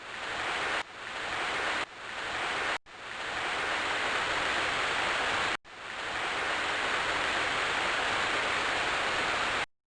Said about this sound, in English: A cascading waterfall, though very beautiful, nevertheless cuts off further travel up the coast.